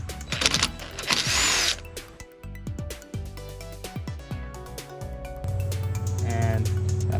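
A power drill whines in repeated rising and falling bursts as it backs screws out of a walk-behind string trimmer, close and loud.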